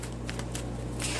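Tarot cards are shuffled in a quick run of soft papery riffles and flicks, close and fairly quiet over a steady low hum, with no talking.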